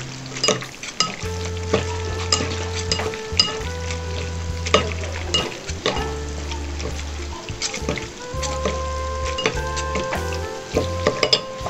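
Kwetiau noodles being stirred with spices in a wok, with steady frying sizzle and repeated clinks and scrapes of utensil on pan throughout, close and fairly loud with no talking.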